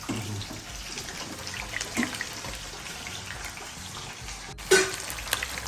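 Food frying in a pan gives a low, steady sizzle, with faint kitchen clatter and a brief sharp knock partway through.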